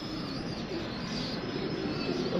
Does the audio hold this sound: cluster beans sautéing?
no